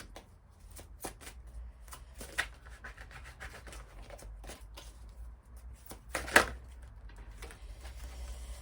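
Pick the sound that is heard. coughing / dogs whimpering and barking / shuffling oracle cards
shuffling oracle cards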